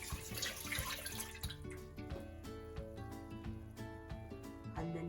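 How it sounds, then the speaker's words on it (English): Milk and water poured over fish in a cooking pot, a steady liquid pour with splashing and dripping that lasts several seconds, fairly quiet and heard on its own. "I've got 250 ml of milk and 250 ml of water, and I'm just going to pour it over the fish."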